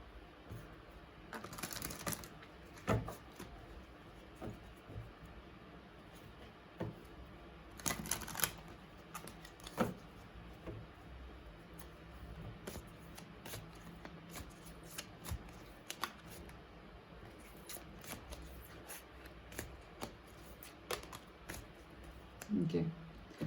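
Oracle cards shuffled close by in a quiet room, repeated crisp riffles and flutters with bursts of card slaps and small taps spread across the whole stretch.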